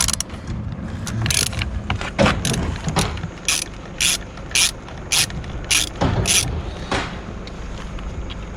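Ratchet wrench clicking as it loosens the 19mm nut at the center of a Nissan Skyline R32 GT-R steering wheel, close up, with bursts of rapid clicks between pauses, sparse bits of talk and handling noise.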